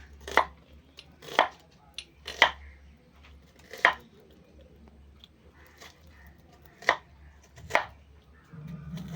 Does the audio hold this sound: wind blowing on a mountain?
no